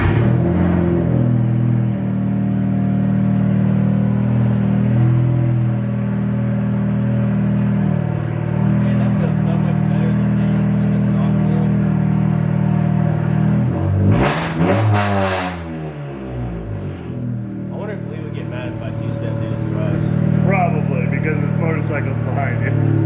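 A 10th gen Honda Civic engine runs with a steady low rumble and a brief revving swell midway, close and loud, with people talking over it.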